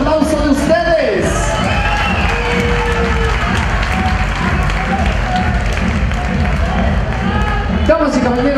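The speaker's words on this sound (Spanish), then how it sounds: "vamos a apoyarles con ese fuerte y caluroso aplauso de ustedes" A crowd applauds and cheers for models on stage at a fashion show, a loud, continuous roar of clapping mixed with shouts and whoops, with voices calling out over the din.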